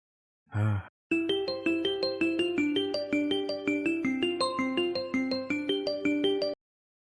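A melodic phone ringtone plays loudly and steadily, a repeating tune of bright electronic tones, preceded by a brief muffled noise.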